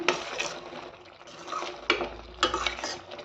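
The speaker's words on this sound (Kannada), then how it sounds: "ಸ್ವಲ್ಪ ಕೊತ್ತಂಬರಿ ಹಾಕಿ ಆಡಿಸಿ" Cashew masala curry with coriander being stirred in a pot, a spoon scraping and clinking against the metal with soft simmering underneath and a few sharper knocks near the end.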